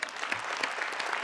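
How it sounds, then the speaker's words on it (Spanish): An audience at the closing session of a Communist Party Central Committee plenum in Cuba applauds, a dense continuous clatter of many hands clapping at steady loudness. "Los aplaudo yo a ustedes por el pleno que acaba de concluir."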